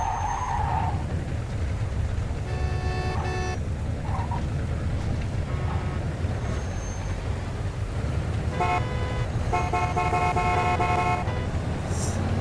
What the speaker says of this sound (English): Don't you honk your fucking horn at me.